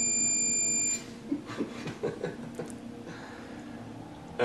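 A steady electronic beep tone sounds for about a second, then cuts off, leaving scattered clatter and faint background activity.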